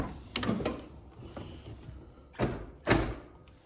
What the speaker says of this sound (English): I love how these car doors slam.